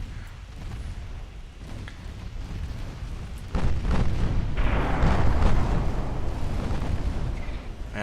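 A torpedo strikes a warship in the naval battle game Ultimate Admiral Dreadnoughts, bursting into a loud, deep rumbling explosion that swells suddenly midway and rolls on over a low battle drone.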